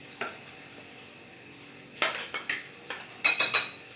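A utensil clinks and scrapes against a bowl while egg and vegetable oil are mixed, quiet at first, then a burst of quick taps and a bright ringing clatter near the end.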